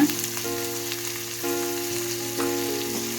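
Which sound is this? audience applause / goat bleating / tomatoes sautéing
tomatoes sautéing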